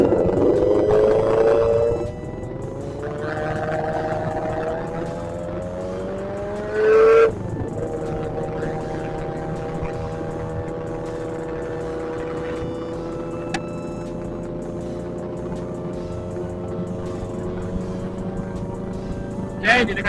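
Sport motorcycles accelerate along a road near Makassar, their engines droning in steady, slowly rising tones, with one sharp surge of revs partway through and a continuous rumble underneath.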